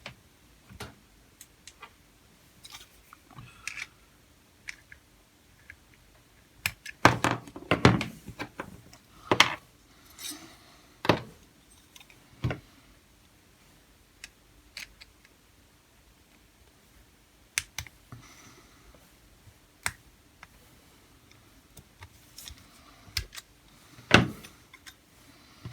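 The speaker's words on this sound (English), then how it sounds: "all I'm going to use is a nail remover to just ease the axles off" Small metal clicks and ticks as a nail remover eases the axles off a Dinky Toys No 612 Commando Jeep, a sparse run of sharp close taps and scrapes with quiet gaps between them.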